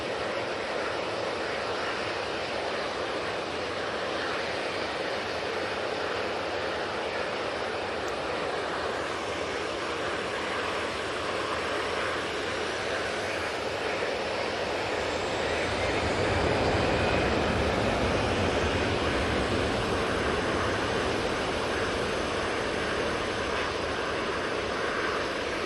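An Easyjet Airbus A320ceo bound for Istanbul at Manchester Airport gives a continuous broad jet roar at moderate distance, swelling slightly louder with deeper rumble in the second half.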